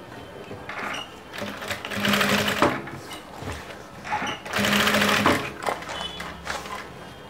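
A sewing machine stitches a padded cup onto the front of a princess-cut blouse in bursts of rapid mechanical whirring, stopping and starting several times, close and clear.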